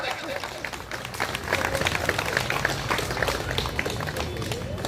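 An audience at an open-air stage event applauds to welcome guests, dense continuous clapping rising and holding steady with voices mixed in.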